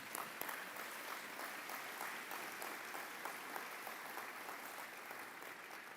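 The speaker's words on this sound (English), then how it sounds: "Let's give them a round of applause." Sustained applause from a banquet audience at a pro-life fundraising dinner, steady dense clapping filling the room throughout, with no voices rising above it.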